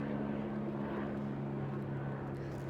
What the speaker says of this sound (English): Looks like I got a helicopter going overhead.